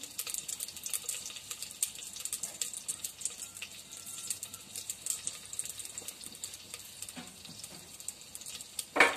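Onion sizzles in hot ghee in a pan, a bright crackling hiss with irregular spits and a few stirring scrapes, ending in a louder clatter.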